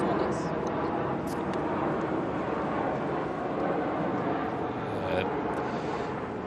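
An airplane passes overhead during Wimbledon qualifying tennis, a steady broadband roar that fills the whole stretch, with commentators and the umpire's exchange talking over it.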